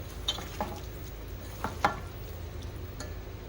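Chicken pieces are mixed with salt and chili by hand in a bowl, giving soft wet squelches and a few light clinks at irregular intervals, quiet and close, with no talk.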